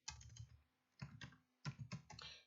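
Computer keyboard typing in three short bursts of rapid close clicks separated by brief pauses, quiet and with no talking.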